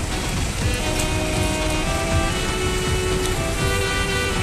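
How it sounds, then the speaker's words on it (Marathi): Rain falls steadily on a street, a loud dense patter and hiss with scattered drops hitting hard surfaces, continuous and close throughout. "पाऊस पडायला लागला"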